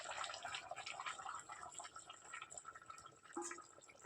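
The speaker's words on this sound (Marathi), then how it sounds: "आता वरचं पाणी टाकून घेऊया चिकनमध्ये" Water is poured into a pot of village-style chicken curry cooking on a wood-fired stove, a faint splashing, trickling pour with a few drips.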